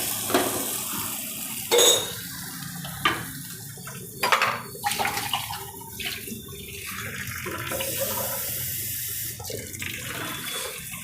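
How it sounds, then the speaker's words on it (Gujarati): A glass of water splashes and runs into a cooking pan in uneven pours, with a few clinks of metal and a steady trickling in between. "આપણે એક ગ્લાસ પાણી નાખશું"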